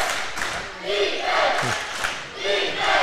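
A crowd cheers and yells at a boys' high school basketball game between Hartington Newcastle and Humphrey St. Francis, loud swelling waves of gym noise with shouts rising and falling, keeping up throughout.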